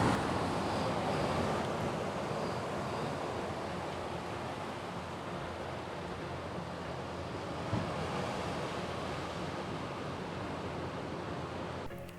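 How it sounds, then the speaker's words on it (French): Strong wind roars steadily into the microphone, a broad rushing noise that barely changes, with no voices heard. "Il y a beaucoup de vent par contre."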